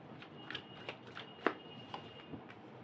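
Tarot cards being shuffled by hand, giving soft irregular riffling and snapping taps at close range with no talking over them.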